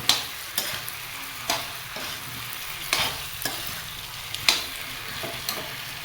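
Potatoes fry first in a pan for an Indian mixed-vegetable dish, sizzling steadily while a spatula stirs them with sharp, regular scrapes and knocks about every second.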